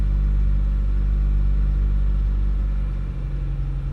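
A 1990 Tracker/Sidekick engine idling rough with a misfire after about five minutes of warm-up, giving a close, steady low rumble that dips slightly near the end, with no talk.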